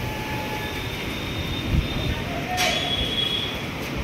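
A train passes near Gopalpur on the Odisha coast as a storm builds: a steady, close rumble of wheels on rails with faint metallic squeals rising above it for a few seconds.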